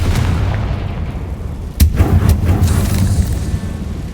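The Confringo fire spell in Hogwarts Legacy hits with one loud, sharp blast, followed by a rumbling, crackling burst that lingers for a couple of seconds over steady game ambience.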